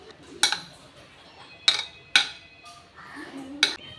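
A spoon clinks against a bowl as capsicum, carrot and tomato sauce are mixed, giving four sharp, irregularly spaced taps with quiet scraping between them and no talk.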